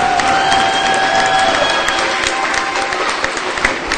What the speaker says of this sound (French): Plus d'applaudissements, s'il vous plaît